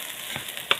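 Spices with cumin and salt being stirred in a single pot while Egyptian koshari cooks, giving a few faint, brief scraping clicks over a soft sizzle.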